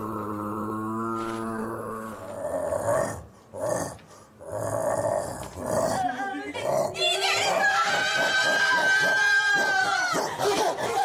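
A voices a dog with gruff growls and barking yelps, loud and close, his vocal mimicry breaking into barks and then a longer sustained howling cry, with no real animal present.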